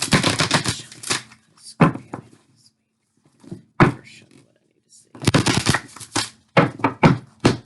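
Coffee-stained, slightly crusty tarot cards are shuffled in several brisk riffling bursts with short pauses between them, close and fairly loud, with a voice talking in between.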